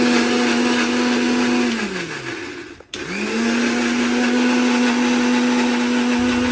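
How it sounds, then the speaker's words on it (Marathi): A mixer grinder whirs loudly as it purees jackfruit pulp without water, a steady high motor whine that winds down to a stop, pauses briefly, then spins back up and runs on steadily. "राहिलेले जे गरे आहेत ते मिक्सरमध्ये टाकून त्याची आपण एक स्मूथ प्युरी बनवून घेणार आहोत"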